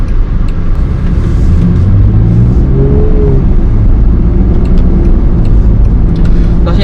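A Land Rover Defender 90 driving, its engine and road noise forming a loud, steady rumble from inside the cabin with no break.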